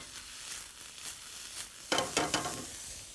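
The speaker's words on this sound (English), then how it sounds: "Now this has to saute a couple of minutes." Leeks sauté in a pan for a stuffed Cornish hen dish: a quiet, steady sizzle swells midway into a few louder crackling bursts, with no voices.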